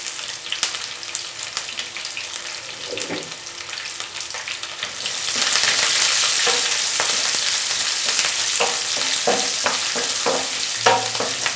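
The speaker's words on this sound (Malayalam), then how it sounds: "പാൻ വെച്ച് എണ്ണ ചൂടാക്കി ഇനി അതിലേക്ക് കടുകിട്ട് പൊട്ടിക്കാം." Mustard seeds crackling and popping in heated oil in a pan, a steady sizzle rising sharply midway, with scattered sharp pops and faint stirring clinks, no talk.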